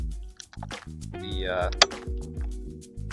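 Coolant glugs and trickles from a jug into the radiator of a Subaru WRX, a liquid pouring sound with a brief splash, heard close up under nearby talk and music.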